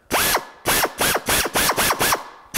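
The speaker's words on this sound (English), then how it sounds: "when the drill went through, that was actually pushing the tail of the rivet out" A power drill bores out a bad rivet in sheet metal, the motor rising and falling in about seven rhythmic bursts of whining, grinding drilling, loud and close, with no talk.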